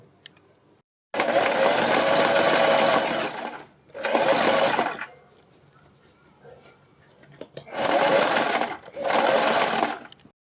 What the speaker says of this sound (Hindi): बुकरम के बिल्कुल बराबर में हमें सिलाई लगानी है और इसको सिलते जाना है।